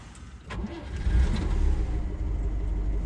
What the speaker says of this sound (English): Starts on the button whether it's hot or cold.